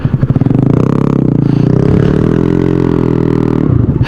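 Small cheap motorcycle ridden through city streets, a loud steady engine drone with a rising and falling pitch, close up and continuous with no talk.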